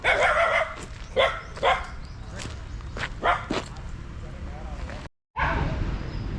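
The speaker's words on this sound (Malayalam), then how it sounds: "ഇഷ്ടം പോലെ പട്ടി കാണും ഇഷ്ടം പോലെ കേട്ടോ" Dogs bark several times in irregular bursts, fairly close, with outdoor background noise and a brief cut in the sound near the end.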